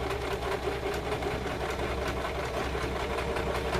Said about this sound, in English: you're just going to put your presser foot back down and just keep sewing straight